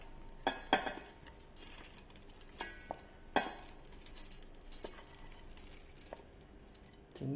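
Washed, soaked basmati rice for biryani is tipped into a rice cooker pot, giving soft grainy rattles and light clinks of the pot and utensils. The quiet clatter comes in scattered bursts with no talking.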